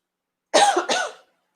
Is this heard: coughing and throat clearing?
yes